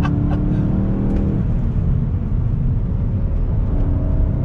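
A 2021 VW Golf GTI engine with a 6-speed manual revs hard to redline, climbing in pitch as it accelerates, loud and close, with a steady roar throughout.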